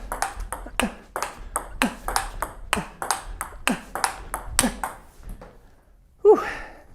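A table tennis ball bounced repeatedly off a Rasanter 37 rubber with the softest sponge, a steady rally of about a dozen crisp clicky pings, followed by a pause and a breathy exhale.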